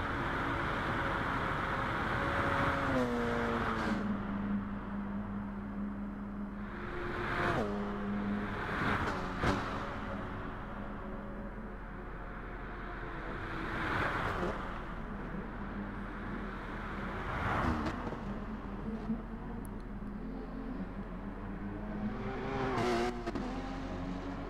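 Group 4 race car engine in GT Sport during a 2.4-hour endurance race at the Nürburgring, roaring steadily with repeated rising revs and gear changes, a loud, continuous drone with no talking.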